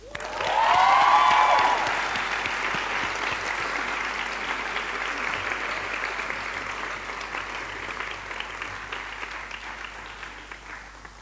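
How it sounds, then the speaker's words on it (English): Audience applause at a girls' school prize giving, a dense crowd of clapping that swells loudly in the first two seconds, then settles into steady sustained clapping for the rest of the clip, with no talk. "Let's give her another round of applause."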